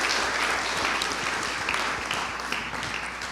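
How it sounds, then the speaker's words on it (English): An audience at an Asia CEO Forum applauds, a dense, steady wash of many hands clapping that holds at an even level for a few seconds with no voices over it. "big round of applause"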